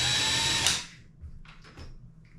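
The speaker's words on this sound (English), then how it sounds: "slowly work the screw into the cabinet" A power drill drives a screw into a cabinet while a toilet paper holder is mounted, whirring steadily for under a second before cutting off, followed by a few faint short clicks and scrapes.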